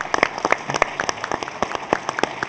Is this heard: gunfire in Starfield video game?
no